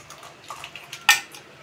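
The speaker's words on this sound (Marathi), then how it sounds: "बर्फाचे खडे टाकून घ्यायचे 2-3 आपल्याला छानपैकी चिल्ड होण्यासाठी" Ice cubes drop into mango milkshake in a mixer jar, heard as a few light clicks and then one sharp, bright clink at close range in a quiet room.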